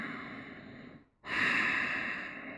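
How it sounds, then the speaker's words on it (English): Slow, deep breathing during a seated yoga relaxation: one long exhale tapering off, a brief pause, then a strong, close inhale that fades gradually, with no talking. "Take a few breaths."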